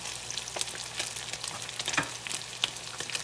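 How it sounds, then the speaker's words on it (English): Canned salmon patties frying in a pan, giving a steady close sizzle with scattered crackles and pops, continuous and alone without talk. "Now we gotta let them cook on that side and get that pretty golden crust"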